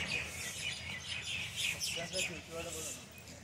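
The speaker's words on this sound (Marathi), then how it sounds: "हां पक्ष्यांचे किती छान आवाज आहे मला." Small birds chirp and tweet at Daulatabad fort in the evening, scattered high calls over a busy ambient background with faint voices underneath.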